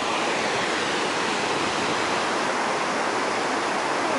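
Rushing rapids on the Hiitolanjoki river form a steady, loud, broadband roar of churning water, continuous and alone with no voices.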